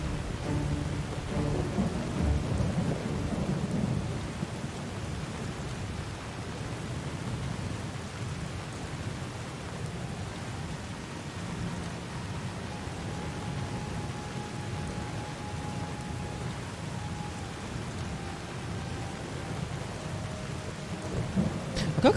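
Steady rain falls during a thunderstorm in Skyrim, with deep thunder rumbling early on and a low, continuous hiss of rainfall throughout.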